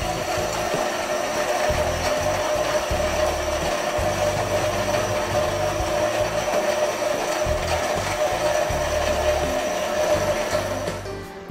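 A mill grinds malted barley for craft beer brewing, a steady, loud, continuous mechanical whirr and rasp of crushing grain that runs unbroken throughout and cuts off at the end, with no talking.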